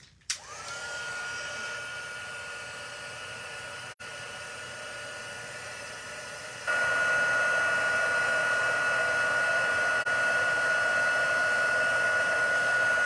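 A heat tool blows with a steady, loud whir while melting embossing powder on Cajun Craze cardstock, holding a constant pitch and rising slightly in level partway through.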